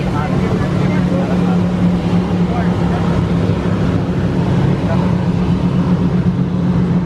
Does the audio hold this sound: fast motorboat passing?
yes